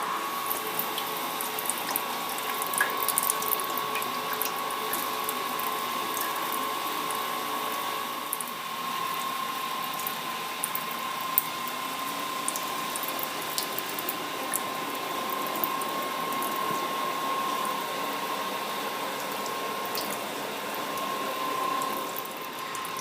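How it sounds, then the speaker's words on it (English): Water runs steadily into a mash tun during the sparge for an American Pale Ale on American Two Row malt, a continuous close pouring and hissing wash that lasts throughout with no talk. "Got to get a little bit more water in the mash tun."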